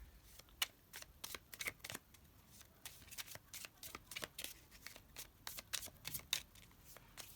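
Steady, rapid riffling and soft slapping of tarot cards being shuffled, close up and fairly quiet, with no talking.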